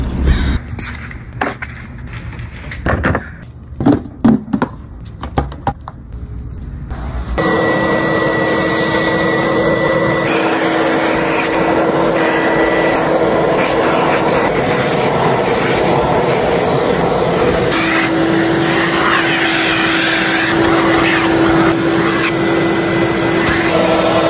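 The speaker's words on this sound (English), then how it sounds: "DJ, you gonna shampoo the new couches?" An upholstery shampooer works on new couches: after several seconds of clattering bumps, a loud continuous motor whine starts and runs steadily to the end, with its pitch shifting slightly partway through.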